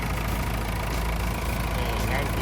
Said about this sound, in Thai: การทำงานของตัวเครื่องยนต์ของเขาเนี่ยก็ทำงานได้นิ่ม แน่นดีปกติเลย